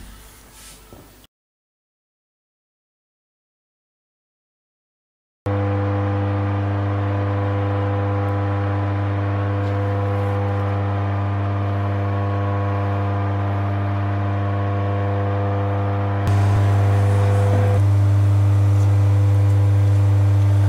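A Hoover vacuum cleaner runs in a workshop, a steady loud droning hum that starts after a short silence and grows louder near the end, with no talk.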